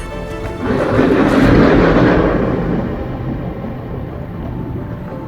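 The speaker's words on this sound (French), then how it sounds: "il ne reste que l'écho de nos moteurs" Motorcycle engines echoing inside a mountain tunnel, a loud rumbling roar that swells and reverberates, then fades to a dull lingering drone.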